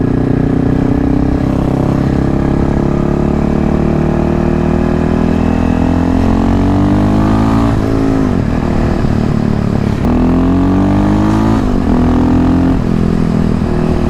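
A KTM 625 SMC single-cylinder supermoto revs hard through its gears around 6,000 RPM on twisty roads, a loud, close engine note that climbs in pitch and drops back with each shift, running continuously without talk.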